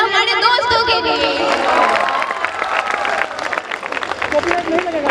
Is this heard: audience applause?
yes